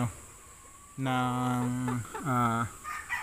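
A McLean hatch gamefowl rooster clucking and crowing close by in two loud, drawn-out calls over faint background noise.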